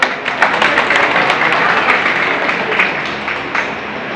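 Sustained clapping from an audience at an Indian Army ex-servicemen's 32 Field Regiment raising day celebration in Hamirpur, a dense steady patter of many hands lasting throughout with a few sharper claps standing out.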